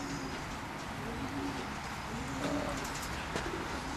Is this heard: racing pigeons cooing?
yes